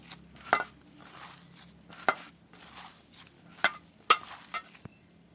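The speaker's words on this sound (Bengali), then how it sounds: "এবার এটা আমি ভালো করে চটকে এইভাবে মাখিয়ে নেব" A hand mashes chopped tomato into a papaya mixture, giving a handful of soft, wet squelching pushes spaced about a second apart with quiet pauses between.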